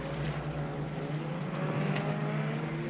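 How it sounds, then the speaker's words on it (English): A small outboard-powered inflatable boat drones steadily in the distance, a constant humming engine over faint water and wind noise. "The noise of the zodiac frightens the baby."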